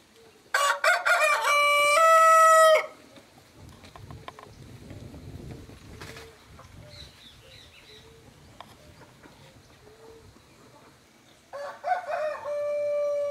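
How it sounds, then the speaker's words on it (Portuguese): On a rural farm smallholding, a rooster crows loudly and nearby, then quieter scratching, clucking and a hen pecking at styrofoam follow, ending with another loud crow from the flock. "galinha picando isopor, cada coisa que eu vejo"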